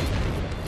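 A short, booming blast from the Explosion move in the Pokemon Moon video game: a single dense, rumbling burst that stays loud throughout and stands alone with no talk over it.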